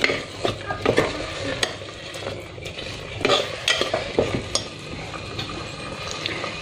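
Garam masala and chilli powder frying in a pan for paneer biryani, a soft continuous sizzle broken by irregular stirring scrapes and spoon knocks against the pan, close by, with no voices.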